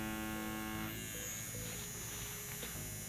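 A tattoo machine shading on fake skin hums with a steady, close electric buzz that runs unbroken throughout, with no talking.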